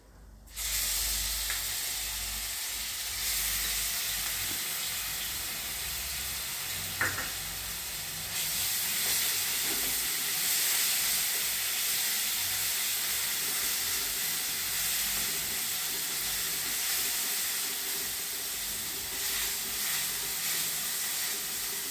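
Spices and ground masala with mustard seed, asafoetida and turmeric sizzle and sauté in a pan for samosa filling, a continuous loud hiss with occasional stirring scrapes and no talk.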